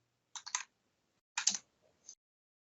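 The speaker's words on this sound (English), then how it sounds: "I'll type the trigger phrase again." Short bursts of typing on a computer keyboard: a quick cluster of clicky keystrokes, a pause, then another cluster and a final single tap, close and crisp in an otherwise quiet room.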